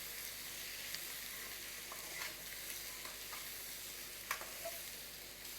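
Potatoes and dry fish fry quietly in a pan, a faint continuous sizzle broken by a few soft stirring scrapes.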